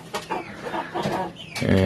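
A small backyard poultry flock of about fourteen chickens clucks in short, close bursts beneath a voice talking throughout.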